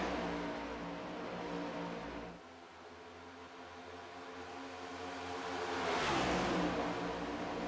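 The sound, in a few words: race car engines in the iRacing video game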